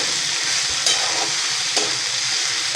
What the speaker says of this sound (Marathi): मोठाच गॅस ठेवायचा, गॅस बारीक नाही करायचा आणि एकसारखं हा भाजी हलवत राहायची